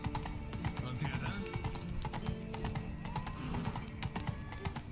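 Rhythmic hoofbeats clip-clop steadily as a horse moves through a town in The Witcher 3: Wild Hunt, with an occasional whinny and faint background ambience.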